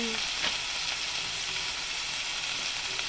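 White onion sizzles steadily and close in a hot pan, a constant frying hiss with faint stirring taps and no talking.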